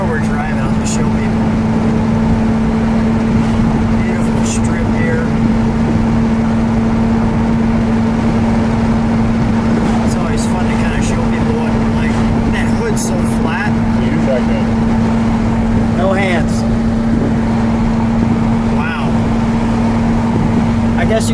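A 1970 Chevrolet Monte Carlo SS 454 cruises along with a steady, loud engine drone and road rumble throughout, while people talk over it inside the car.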